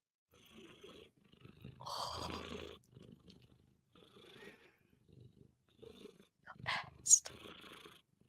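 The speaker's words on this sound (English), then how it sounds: "I can hear the purrs" A cat purrs softly in close, quiet bursts, while a person talks gently over it.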